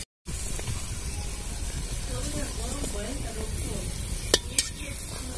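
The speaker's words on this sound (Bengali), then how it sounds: "আপনারা এইভাবেই ভাজবেন, তাহলে আপনাদের মালপোয়া গুলো ভালো করে ফুলবে এরকম।" Malpua, a Bengali sweet, frying in hot oil gives a steady close sizzle with bubbling crackle and a couple of sharp ticks near the end, under faint background voice.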